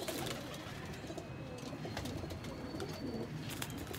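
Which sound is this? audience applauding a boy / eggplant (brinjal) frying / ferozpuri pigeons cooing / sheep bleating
ferozpuri pigeons cooing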